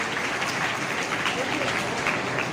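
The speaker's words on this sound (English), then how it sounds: "Big round of applause for ma'am Siddhi" A college audience at a workshop for students at a government girls' college applauds a guest speaker, a steady wash of clapping throughout the short stretch with faint voices mixed in.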